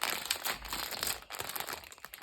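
A small plastic packet crinkles continuously during the unboxing of a Labubu toy, with close, busy rustling and crackling that runs throughout and no clear speech.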